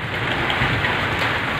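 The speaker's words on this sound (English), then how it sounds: "Air is blowing. Rain is going down." Wind-driven rain falls outside a home in a wild storm, a steady dense hiss of drops without pause, close and fairly loud.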